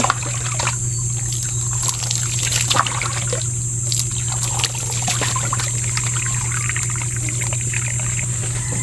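Water poured over a person's head while bathing and rinsing after a scalp scrub, a steady close splashing trickle that runs unbroken throughout with no talk.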